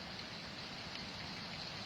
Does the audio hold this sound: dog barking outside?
no